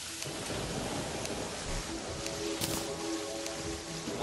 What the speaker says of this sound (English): Of course it rains.